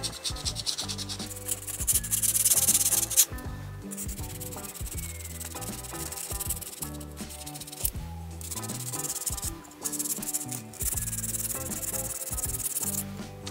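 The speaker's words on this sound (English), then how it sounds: "I'm using my punch to wrap the sandpaper around so I can get in that little groove really easily" Sandpaper wrapped around a punch rubs back and forth over the metal groove of a CZ P10c pistol magazine release, a steady close rasping scrub in repeated strokes with brief pauses.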